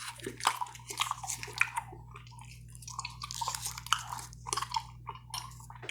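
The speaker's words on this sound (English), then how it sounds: "I'm just going to be chewing on some gum," Gum being chewed close to the mouth gives soft, irregular wet smacks and clicks, repeated through the stretch over a low constant hum, with no talking.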